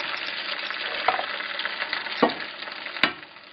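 Eggs fry in a hot pan next to breakfast potatoes, giving a steady close sizzle with a few sharp spatula scrapes and taps.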